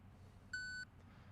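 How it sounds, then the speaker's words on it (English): A Capto EZ putting analysis unit gives a single short, clean electronic beep after a putt, clear and alone against quiet room ambience. "I got the beep."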